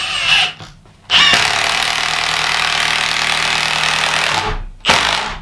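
A Milwaukee M18 Fuel 1/2 inch mid-torque impact wrench with friction ring hammers loudly and close, a short burst, a brief pause, then a long sustained run of rapid impacts that stops and is followed by another short burst.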